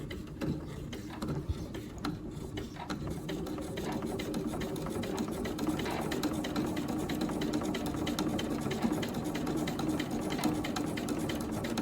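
A sewing machine stitches steadily over a thick section of fabric, its motor whirring and needle mechanism clattering continuously and fairly close for the whole stretch, with no talking.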